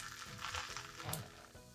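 A scallion pancake fries in a pan with a quiet, steady sizzle and light crackling pops, faint and close, with no talking over it.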